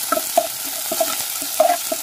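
Curry leaves hit hot oil in a tempering of mustard seeds, chana dal, urad dal and dried red chilli pieces, a bright steady sizzle with a few stirring scrapes, close and loud.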